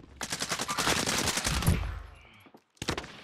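Rapid bursts of automatic gunfire rattle through a video game firefight, loud and dense for about two seconds, then a short silence before another volley breaks out.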